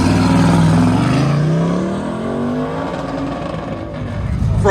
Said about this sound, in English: Driving the Speedway Cobra Tribute.